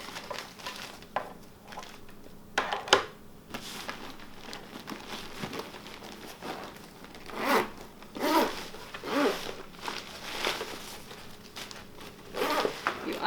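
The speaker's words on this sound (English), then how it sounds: "unzip the shroud," A zipper is drawn open on the shroud of a PAPR respirator, a few short rasping pulls amid rustling and handling, close and moderately loud, with no talking.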